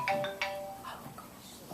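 A mobile phone rings during a postgame basketball press conference, a few bright chiming tones at the start that then fade into room noise with faint murmuring.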